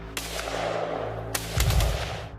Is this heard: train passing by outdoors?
no